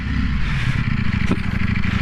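A 2019 Ducati Panigale V4 motorcycle runs with a loud, steady, deep engine drone heard close up from the rider's position, with wind rush over it and a brief scrape partway through.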